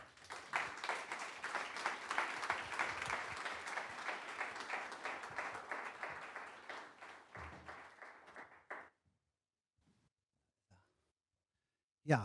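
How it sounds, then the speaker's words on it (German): Warm audience applause greets Holger Stanislawski as he arrives to speak at an event, steady dense clapping for about nine seconds that fades out, then near silence. "Ja, vielen, vielen Dank für den warmen Applaus"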